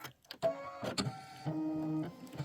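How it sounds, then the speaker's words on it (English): A home embroidery machine stitches out a placement template on a Kimberbell Thanksgiving pillow, giving a steady mechanical whir with tonal hum and irregular clicks, moderately close over a short stretch. "it's going to stitch out the template"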